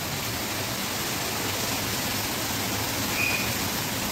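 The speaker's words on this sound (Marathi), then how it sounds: "गारट्याचा पाऊसच वाटतोय मला तरी" Heavy rain with hail pours down outdoors as a dense, steady, unbroken hiss that fills the whole stretch evenly, with no voices.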